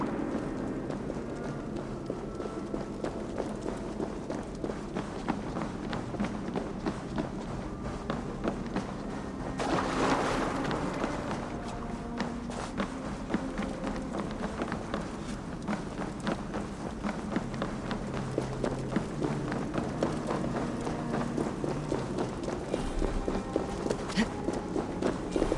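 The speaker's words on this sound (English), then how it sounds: "That sound. Is it thunder? Footsteps." Footsteps in Assassin's Creed Valhalla, a steady run of soft thuds over a busy game soundscape with low rumbling, continuing throughout with a brief louder swell midway.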